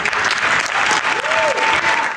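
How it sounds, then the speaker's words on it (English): A crowd applauds and cheers after a speech, dense and loud clapping throughout with whoops rising above it, close and continuous. "the crowd definitely ate up what he had to say. And it sounds like, cheering for him to make this comeback"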